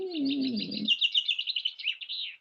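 A chaffinch sings a short, bright run of quick descending notes, close and clear, after a brief low cooing sound at the start.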